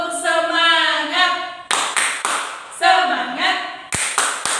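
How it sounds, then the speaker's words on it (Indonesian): A kindergarten teacher leads the rhythmic 'tepuk semangat' spirit clap, sharp bursts of hand claps between sung or chanted phrases by a voice, in a repeating pattern close to the microphone. "kita tepuk semangat dulu yuk"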